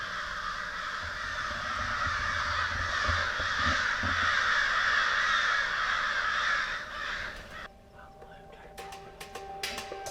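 Crows caw in thick timber during an Arkansas whitetail hunt, harsh repeated calls that run loud for several seconds, then stop abruptly, leaving quieter woods with a few sharp knocks.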